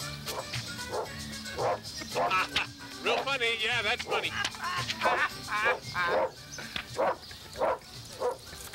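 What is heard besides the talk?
dog barking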